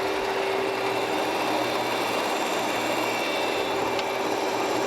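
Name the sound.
Landis surface grinder running at slowest feed rate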